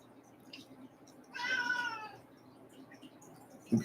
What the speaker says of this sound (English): would you stop meowing at me?